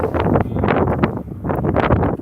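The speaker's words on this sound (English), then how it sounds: "it's stupid wind" Gusty wind buffets the microphone in uneven bursts of low rumble, loud and close, with no clear voices.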